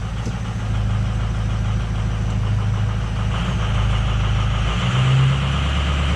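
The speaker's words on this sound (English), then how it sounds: "That's the angry diesel sound." A heavy diesel truck engine idles steadily and close by after a cold start with a jump pack, with a deep, rough low rumble that swells slightly near the end.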